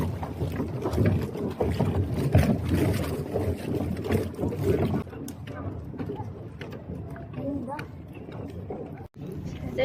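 Small tourist boat motoring across open water at Hundred Islands, a steady broadband engine and water wash dominating the first half, then quieter hull and wind noise with people talking nearby.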